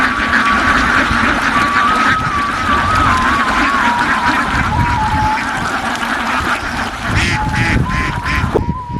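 Farm ducks in a wetland area calling together: loud, overlapping quacks and honks in a dense chorus, with a steady whistled flute-like tune running over the flock throughout.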